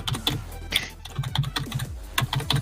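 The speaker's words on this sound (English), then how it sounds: "The keyboard is so loud." Loud, rapid computer keyboard typing close to the microphone, a steady clatter of individual keystrokes in quick irregular bursts with no voices.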